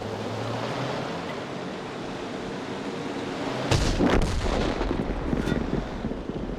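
Tank cannon firing in the World of Tanks video game: a single booming shot lands midway over a steady low rumble and hiss of battlefield ambience, followed by a few sharper crackling bursts.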